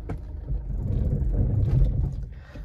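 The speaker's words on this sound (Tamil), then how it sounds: "இப்போ நான் வண்டி ஸ்டார்ட் பண்ணுறேன்." A Toyota Altis engine cranks and starts, a low, close rumble that builds and holds steady for a couple of seconds before easing slightly at the end, with no one speaking.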